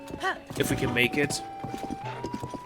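Hooves clip-clop in a quick, close rhythm from wild horses in The Legend of Zelda: Tears of the Kingdom, set against game music, with a voice talking over them.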